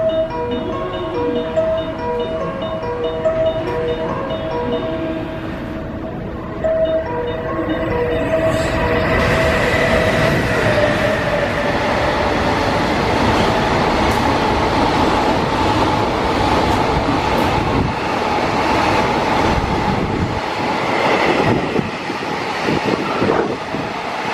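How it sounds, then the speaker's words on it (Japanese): A freight train passes through platform 6 of a Japanese station, a loud, sustained rolling roar and clatter of wheels on rail that builds and holds for over twenty seconds, with faint tonal station sounds at the start. "6番乗り場を列車が通過します。"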